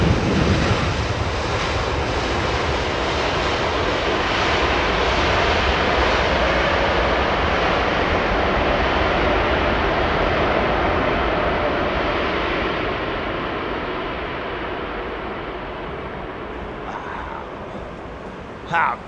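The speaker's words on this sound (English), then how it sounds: "did you hear that faint background sound of the props, the turbo props?" Turboprop airliner in Air Canada livery landing on runway 27R, a broad, steady roar of engines and props that holds loud and then slowly fades as it passes, with no talk during it.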